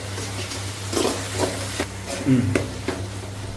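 Ginger and garlic frying in a pan for Tamil-style mutton curry, a low steady sizzle with a few stirring scrapes and clacks, moderately close.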